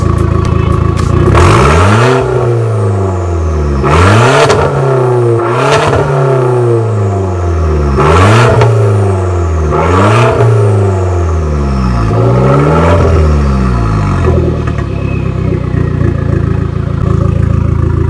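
A Lexus car engine, on a rare salvaged car, revs hard again and again, roughly every two seconds, each rise in pitch snapping back down, loud and close with no talking.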